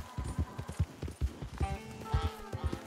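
Horse hooves in Red Dead Redemption 2 clatter in a quick, steady galloping rhythm, close and prominent, with game music and a faint tone layered over the later part.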